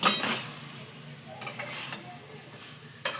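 A chana dal pickle mixture stirred and fried in a pan: a soft sizzle with intermittent scraping and clinks of the utensil against the pan, close and moderately loud.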